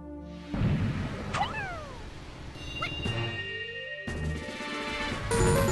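Pikmin breaking down a door in the Pikmin video game: crashing impacts, chirpy creature cries and sliding tones, ending in a burst of rumbling as the door gives way, with no speech.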